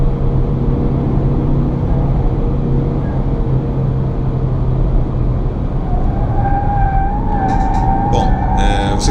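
A 2017 Fiat Mobi drives through a curve with a steady, loud engine and road rumble throughout, joined late by a rising whine and a few faint higher chirps.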